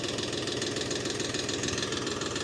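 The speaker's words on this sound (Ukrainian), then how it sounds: "на холостих, тракторець." A DTZ 354U tractor engine idles close by, a steady low rumble with a rough knocking pulse and constant vibration, no speech.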